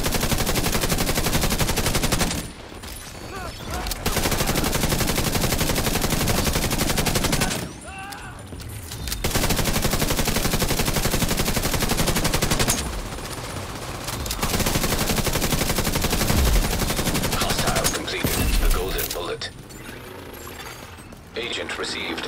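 Sustained automatic gunfire in The Division video game during a fight at the Capitol Building, long loud bursts broken by short pauses, with game radio voices talking at points.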